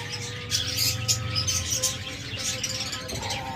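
Pair of non-ringed lovebirds chirping in a steady stream of high, bright calls over a low background hum, close and fairly loud throughout.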